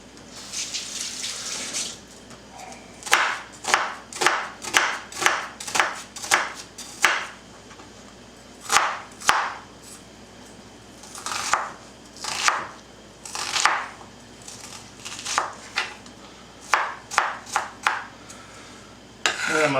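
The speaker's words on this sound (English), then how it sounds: "Now I just need to cut up all these vegetables. I'm going to use about a half of this onion." A knife chops half an onion on a cutting board for chicken pot pie, a run of quick regular thuds in bursts with short pauses, close and fairly loud, no talking.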